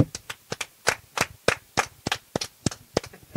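Rhythmic hand clapping for a comedy show, a dozen or so sharp, evenly spaced claps close by, sounding like a few people clapping together in time rather than a big crowd.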